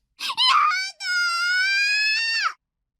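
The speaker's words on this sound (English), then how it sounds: "Kozupi was screaming." In the video game Chaos;Head Noah, a girl screams in pain: one short cry, then a long, loud, sustained wail that falls away at the end, heard alone.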